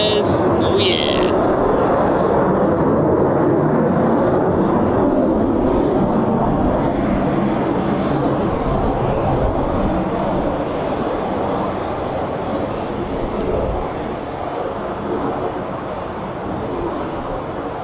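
At RAF Coningsby, a Eurofighter Typhoon FGR4 fighter jet departs with a heavy, broad roar that is loudest at first and then slowly thins as it draws away.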